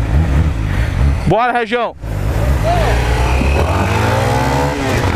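A new motorcycle's engine revs hard during a wheelie outdoors, a loud continuous roar with a rising pitch sweep, under excited shouting and talk from riders nearby.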